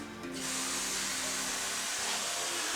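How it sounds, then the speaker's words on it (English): Aerosol chain lube sprayed through a small straw onto a bicycle chain, a loud steady hiss that starts abruptly and holds close up for nearly three seconds. "I'm going to have you spray the chain right here"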